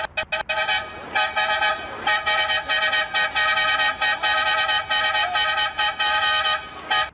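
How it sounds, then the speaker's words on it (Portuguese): Ford Cargo 2428 truck horn in Euro Truck Simulator 2, several short loud blasts followed by long sustained honks with brief gaps, harmonic and close, with no voices. "Olha a buzina."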